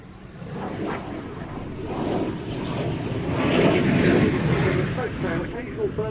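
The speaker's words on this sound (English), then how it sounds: "Here now is that slow-speed high angle of attack part." A military jet flies its slow-speed, high angle of attack display at an air show, a rough, rumbling engine roar that builds steadily and stays loud throughout, with a commentator talking over it.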